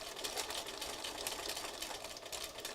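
A sewing machine runs steadily while doing diagonal stitching, a continuous close whirring hum with no pauses and no voices.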